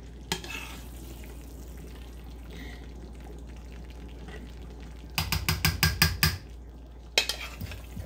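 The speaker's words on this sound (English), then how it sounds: "I'm about to add this roux in here." Chicken gumbo simmering in a pot while roux is stirred in little by little: a steady low sizzle throughout, then a burst of rhythmic scraping and stirring strokes near the end, followed by a few more scrapes.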